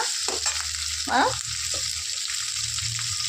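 Tomatoes, a mix of green and ripe, cooking down in hot oil, giving a steady close sizzle and frying hiss with a few brief stirring scrapes, no voices.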